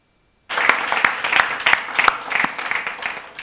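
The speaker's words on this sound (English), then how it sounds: "I think this deserves a round of applause" Audience applause starts abruptly after a moment of silence, a moderately sized crowd clapping warmly with distinct sharp claps that taper slightly toward the end.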